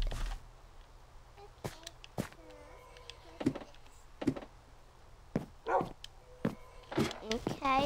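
A dog lets out short, sharp barks at close range in an irregular series, with thin whimpering tones between the bursts.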